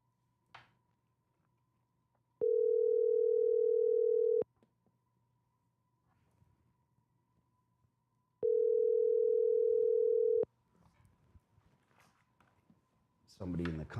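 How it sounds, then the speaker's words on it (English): Two long, steady ringback tones on an outgoing telephone call, each about two seconds with a long silent gap between, clear and alone apart from faint clicks and a brief noise at the end. "It's ringing. It's different."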